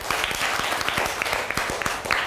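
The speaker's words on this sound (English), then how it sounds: "Clap everybody for him" A classroom of students claps together for a classmate, steady dense applause with sharp individual hand claps throughout, close and fairly loud.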